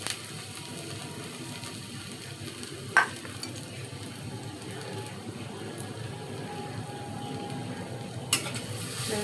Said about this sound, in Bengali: সরিষার তেল দিয়ে দিলাম। এখন পেঁয়াজ দিয়ে দিব। তেল গরম হয়ে গেছে।